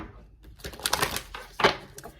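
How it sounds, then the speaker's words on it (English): Quick papery flicks and light snaps as cards are riffled and shuffled, a few brief bursts close by, with no talking. "what I am going to do now is actually shuffle a couple of oracle cards"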